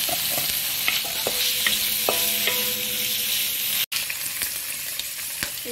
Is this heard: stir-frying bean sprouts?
yes